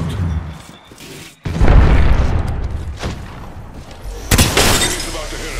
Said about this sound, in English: Arcstar out.